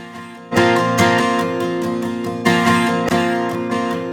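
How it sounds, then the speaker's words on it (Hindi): Guitar played at full volume with loud strummed chords struck repeatedly, each attack ringing out into a thick sustained wash, heard alone and close without any voices. "आप ये जो गिटार का साउंड है मैं आपको ये फुल वॉल्यूम पर करके दिखाता हूँ पहले"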